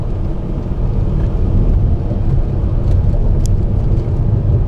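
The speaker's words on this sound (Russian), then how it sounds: "Восемнадцатая маршрутка" Steady loud road rumble from a route 18 marshrutka minibus passing on a rough street in a Donetsk residential district, continuous and close with no voices.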